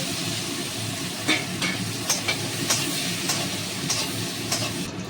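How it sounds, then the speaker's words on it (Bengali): Finely chopped coconut frying with cumin and hing gives off a continuous close sizzle, with a run of light spoon taps and clicks against the pan at roughly even intervals. "ছোট ছোট করে নারকলগুলো কুচিয়ে নিয়েছি এগুলো এর সঙ্গে ভেজে নেব"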